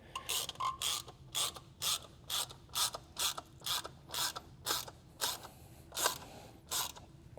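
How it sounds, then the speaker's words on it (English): Rhythmic mechanical ratcheting clicks as a part threads in during an Audi B9 S4 turbo install, about a dozen crisp snaps at a steady pace, close up with no voices. "You'll start to hear it click as you go in."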